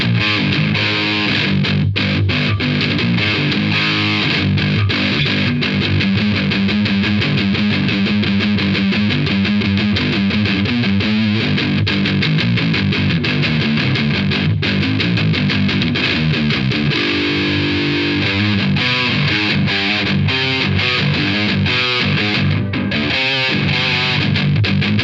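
A 7-string guitar played through a Mooer Dragon Roar distortion pedal cranked all the way up, giving loud, dense high-gain chugging riffs and sustained chords that run without pause for the whole stretch.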